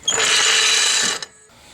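A car jack is lowered and pulled away from under a Saturn Vue 2.2 engine after an engine mount replacement, giving a loud, steady mechanical rattle for about a second, then a brief clack and quiet.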